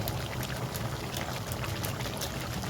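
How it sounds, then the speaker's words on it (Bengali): Water poured generously into a cooking pot on an outdoor picnic stove, a steady continuous splashing pour that fills the whole moment, loud and close with no talking. "দিয়ে দিই বেশি করে জল।"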